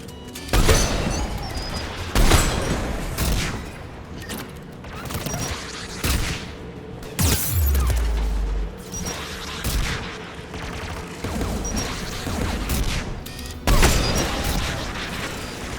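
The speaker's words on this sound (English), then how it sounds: "There, the anti-aircraft guns." Anti-aircraft guns firing in Mass Effect 3: repeated heavy booming volleys at irregular intervals, loud and close, with mechanical rumble between shots.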